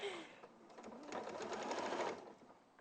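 A sewing machine stitches a seam in a quick, even, rapid whirring run that builds briefly and then stops, close and fairly quiet.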